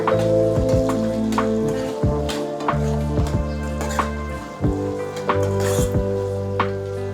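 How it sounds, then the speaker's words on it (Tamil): Shallots sizzling and sautéing in a pan for a Tamil fish curry, a steady crackle with irregular wet squishes and clicks of stirring, close and fairly loud with no one talking. "சின்ன வெங்காயம் நல்லா வதங்கட்டும், வெயிட் பண்ணலாம்."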